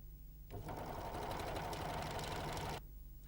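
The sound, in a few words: Janome 6234XL overlocker sewing a rolled hem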